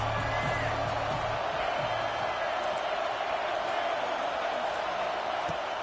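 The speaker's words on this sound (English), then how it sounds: "This crowd trying to make life miserable for this offense." Stadium crowd noise in the NCAA 26 college football video game forms a dense, steady roar with no breaks, filling the background at an even level.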